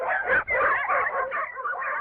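Dogs bark and whimper together in a steady, close run of yips and whines, with a short dip partway through before the noisy yapping resumes.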